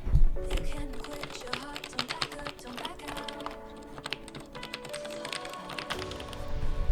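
Fast, continuous typing on an HHKB Pebble mechanical keyboard, a dense close-up clatter of keystrokes with no pauses, loud and alone for several seconds.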